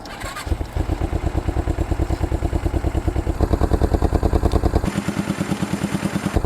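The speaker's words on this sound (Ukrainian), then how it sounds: "ми ще ж не слухали, як він газує" An IZh motorcycle engine revs at close range with a loud, rapid rhythmic put-put that rises and shifts in pitch across several throttle blips.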